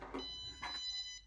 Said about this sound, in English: And you hear the beep there.